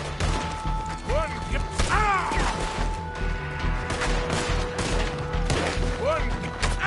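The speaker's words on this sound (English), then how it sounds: "Just keep shooting!" Red Dead Redemption 2 gunfight: repeated loud gunshots and impacts crack through a dense, chaotic battle mix, with a voice briefly audible among the shots.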